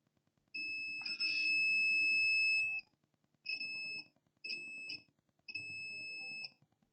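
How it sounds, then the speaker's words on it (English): A multimeter in diode mode beeps as probes touch coils on an HP ProBook 650 G2 laptop motherboard: a long steady tone, then three shorter beeps, loud and close with faint handling noise between. "Those coils, they are beeping to ground"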